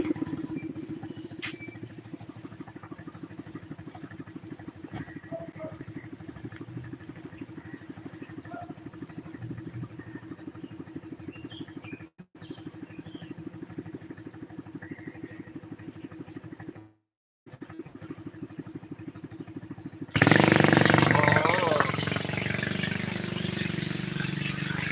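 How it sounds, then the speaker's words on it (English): A small Coleman minibike engine drones steadily as it rides past, a mid-pitched rattling putter that holds for most of the stretch, briefly cuts out, then swells louder and rougher near the end. "My neighbor and his little Coleman bike. Here he comes."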